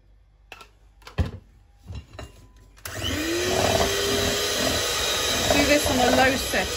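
An electric whisk on a low setting mixes flour, corn flour and milk into a smooth paste for crème pâtissière, a steady close whirring drone that starts after a few soft knocks and runs to the end.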